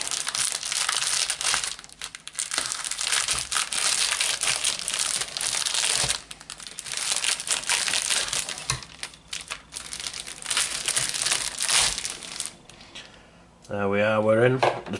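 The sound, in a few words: scissors cutting open Topps Match Attax card starter pack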